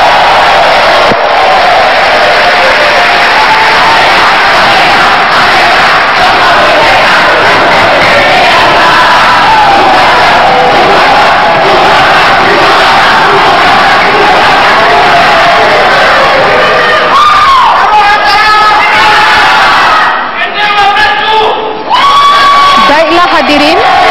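An audience at a 2014 Indonesian vice-presidential debate claps and cheers loudly for a long stretch, with shouts and whoops rising above the steady applause before it tapers off.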